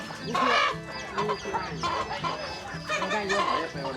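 Farm chickens, a flock of over a hundred kept for grilling, cluck and squawk in repeated bursts close by, their calls overlapping with faint voices in the background.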